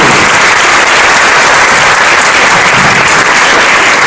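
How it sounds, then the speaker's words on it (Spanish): Dense, loud applause from a seminar audience fills the whole stretch, an even roar of many hands clapping with no gaps. "Aplaudan todos, por favor."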